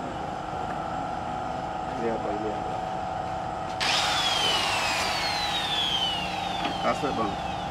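Angle grinder whirring during repair work on a Suzuki Cultus car, a steady mid-pitched drone that rises into a louder, brighter whine partway through, with someone talking nearby.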